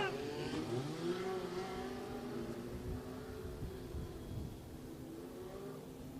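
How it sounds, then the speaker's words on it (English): Legends race cars in the Midwest Legends Dirt Series roar off at the start of a heat race at Maquoketa Speedway's dirt track, a faint, distant swell of revving engines under announcer talk. "Heat race number 2 for the Midwest Legends Dirt Series underway."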